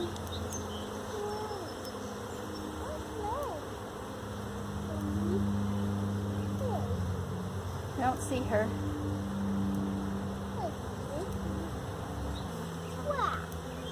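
Honey bees buzzing around an open hive during a first inspection, a steady low drone with individual bees zipping past, under quiet nearby talk.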